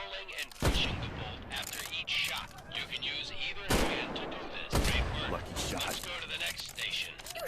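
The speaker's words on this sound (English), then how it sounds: "The K98 is a bolt-action rifle, so you reload by pulling and pushing the bolt after each shot." Karabiner 98K bolt-action rifle shots in a video game, several sharp loud cracks spaced a few seconds apart amid busy gunfire and bolt clatter, with people talking throughout.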